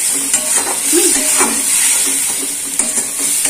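Spice masala with tomato paste, poppy seed and turmeric sautéing in a pan, steady sizzling broken by repeated scraping strokes and light clinks of a spatula against metal.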